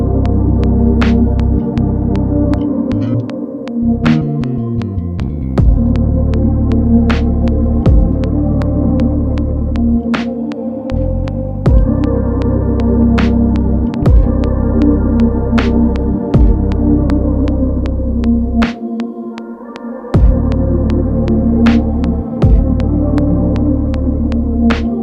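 A looping hip-hop beat of melodic synth chords with a deep bass line added underneath, driven by regular sharp percussive hits, playing loud and continuous.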